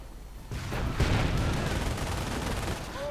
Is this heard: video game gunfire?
yes